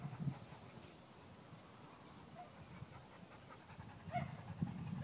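A four- or five-year-old dog panting steadily during obedience training, soft and close with quiet rhythmic breaths over a faint low background.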